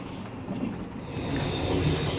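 Steady rumble of a moving train heard from inside a second-class air-conditioned carriage in Thailand, a continuous low drone with a faint high hiss and no talk.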